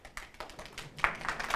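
Faint, sparse audience applause after a speaker's remark, a thin scattering of light claps and taps at a distance, uneven and quiet rather than a full ovation.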